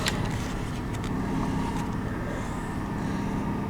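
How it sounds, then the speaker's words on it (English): A 1999 Chevrolet Suburban engine idles close by with a steady, heavy rumble and a gritty grinding texture from under the hood running underneath throughout. "I hear some grinding noises under the hood."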